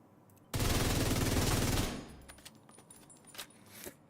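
Rapid automatic gunfire from a video game weapon fitted with a rate-of-fire modifier: one loud, fast sustained burst lasting just over a second, followed by quieter clicks and rattles.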